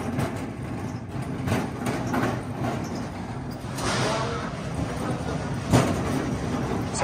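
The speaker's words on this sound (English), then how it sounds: "Like a really noisy cart." A noisy shopping cart rolls through a Home Depot store, giving a steady rattling rumble that lasts throughout with indoor store ambience around it.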